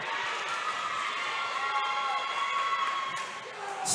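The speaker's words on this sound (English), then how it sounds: "The crowd is getting into it." Spectators at a varsity high school volleyball match cheer and roar steadily, a dense continuous crowd wash heard from within the gym, with a brief dip near the end.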